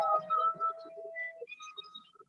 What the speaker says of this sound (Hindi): बांसुरी दी गई है, अलग अलग 7 प्रकार की आप इसमें बांसुरी देख सकते हैं, सुन सकते हैं